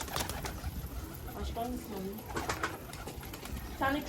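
Bango pigeons coo softly nearby on a rooftop amid low background noise, with a faint voice murmuring at times.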